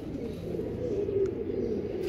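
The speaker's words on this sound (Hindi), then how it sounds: "ये बिल्कुल बन जोड़ का कबूतर है" Low, continuous cooing of a Bichu breed pigeon, a steady murmuring hum with no distinct breaks, fairly close and moderately loud.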